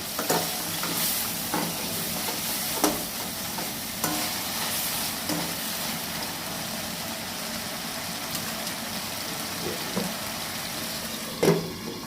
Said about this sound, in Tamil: இன்னும் கொஞ்ச நேரம் மூடி வச்சு கொஞ்சம் வதக்கிக்குவோம்